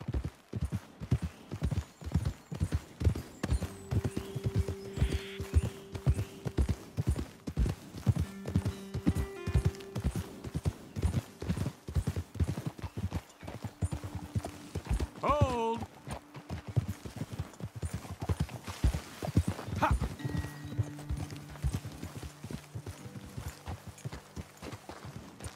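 Horses' hooves clip-clop at a steady walking rhythm in Red Dead Redemption 2, close and continuous through the whole stretch, with an occasional whinny and people talking over the top.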